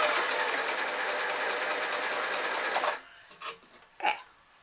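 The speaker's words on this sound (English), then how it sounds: "then I'm just sewing a strip of fabric across the top." A sewing machine stitches a strip of fabric across the top of a ski hat, running steadily and loud for about three seconds before stopping, followed by a couple of soft handling clicks.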